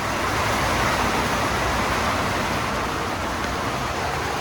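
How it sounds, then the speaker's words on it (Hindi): Steady rain pours down outdoors in Cherrapunji, Meghalaya, a dense, unbroken hiss that stays constant throughout with no voices. "तो ऐसी कुछ बारिश हो रही है"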